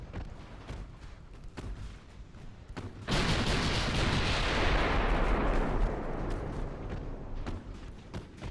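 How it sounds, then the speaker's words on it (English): Naval guns fire in the warship game Ultimate Admiral: Dreadnoughts, with scattered distant shots followed by a loud, sustained barrage of booming blasts that slowly fades. "Maybe one more round of shots will do it."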